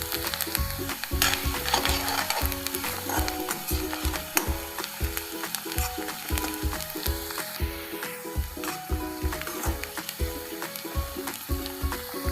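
Onions sauté in a pan for a hotel-style tomato chutney, with a continuous close sizzle and rapid, rhythmic spatula scrapes that clatter almost mechanically throughout, and nobody talks.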